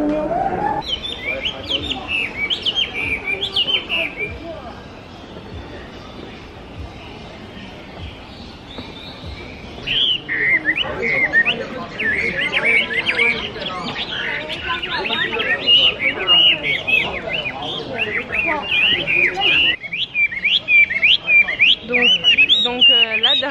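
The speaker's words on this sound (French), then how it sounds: "derrière moi vous entendez, il y a plein d'oiseaux" Many caged birds in a park in Chongqing chirp and twitter continuously, a dense chorus of high, overlapping calls with voices talking at times over it.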